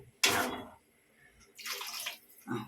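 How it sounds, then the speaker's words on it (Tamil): Water splashes into a cooking pot of curry in two short pours with a pause between, a gushing liquid sound at close range, then a brief third splash. "தண்ணி ஊற்றிக்கலாம்."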